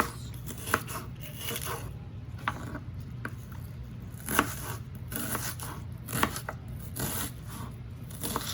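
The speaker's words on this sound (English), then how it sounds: "Cutting on my onion here, you guys." Knife cutting an onion on a cutting board for shrimp tacos, a series of sharp, irregular chops and taps close by, spaced about once a second over a quiet room background.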